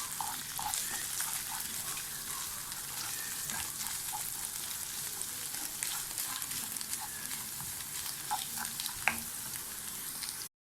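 Tomato paste and garlic frying in a pan for Circassian lepsi, a dense, even crackling sizzle running throughout with faint stirring clicks and no voices.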